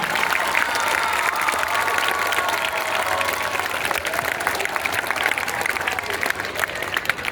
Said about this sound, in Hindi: उनके स्वागत में एक बार जोर से तालियां बजाकर सम्मान करें।